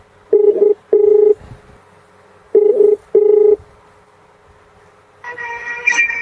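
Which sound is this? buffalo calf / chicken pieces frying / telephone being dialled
telephone being dialled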